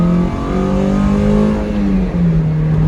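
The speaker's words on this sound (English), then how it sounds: "Here comes another second gear pull for you." A Toyota MR2 Spyder pulls hard at wide-open throttle in second gear, its engine note droning loud and steady and rising slightly in pitch, with a brief dip near the end as the revs ease.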